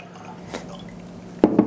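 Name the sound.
pouring Angel's Envy Triple Oak bourbon into a glass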